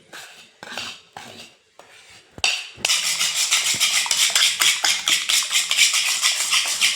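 Sugar being beaten in a bowl to dissolve it while making a sweet recipe: a few separate scraping strokes, then fast, steady, rhythmic clinking of utensil against bowl, close and clear with no talk.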